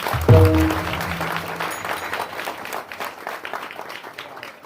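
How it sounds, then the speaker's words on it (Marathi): An audience at a village devotional kirtan breaks into applause, opening with a loud burst that settles into steady, fading clapping from the crowd. "किती जोरात टाळी वाजते हे कळू द्या"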